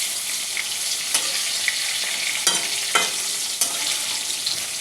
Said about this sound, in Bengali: এই কথা বলতে বলতে বেগুন ভাজা হয়ে গেল